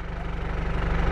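A van engine running steadily as driving begins, a continuous low throbbing rumble with a regular pulsing beat, close and fairly loud, with no talk over it.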